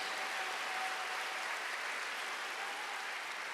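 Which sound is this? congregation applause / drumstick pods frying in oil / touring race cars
congregation applause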